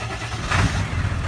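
A Ford F250 truck engine turns over in the cold and snow, a short, loud, rough mechanical rumble that swells briefly and stays up close.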